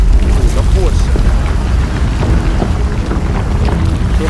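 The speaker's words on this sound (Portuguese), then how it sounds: "A chuva aumentou e já estrangulou as bocas de lobo aqui na Vila Saí, ó. Muita chuva mesmo." Heavy rainstorm with floodwater running through a street and choked storm drains, a loud, continuous rushing roar of rain and water from start to finish, with no pauses.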